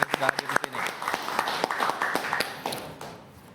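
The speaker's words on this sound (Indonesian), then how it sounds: "Tepuk tangan untuk teman-teman yang sudah hadir di sini." A studio audience applauds law students from Bung Karno University, the clapping dense and fairly close, punctuated by sharp individual claps and fading toward the end, with a voice faintly mixed in.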